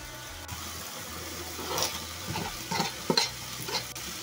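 Diced onion tumbles into minced meat frying in a pan for spaghetti, giving a soft sizzle with a few stirring scrapes and clatters, close and moderately quiet with no talk.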